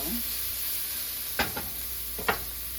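Baby bok choy tossed in a hot pan: a soft, even sizzle runs throughout, cut by two sharp scraping tosses near the end, with no voices.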